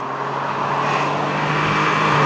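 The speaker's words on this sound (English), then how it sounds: "There's a slight hesitation when you first push on the throttle, and then it sort of surges a little bit" Renault Alpine A310 V6 engine pulling hard under acceleration from inside the car, a loud steady drone with a rising tonal whine that swells slightly in strength throughout.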